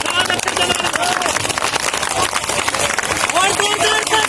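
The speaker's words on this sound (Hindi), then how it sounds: "ताली बजा दो मैडम का नाम कर रहे ताली बजा दो" A crowd at a political rally in Haryana claps steadily under loud amplified speech and general hubbub, the applause a dense, continuous patter filling the background.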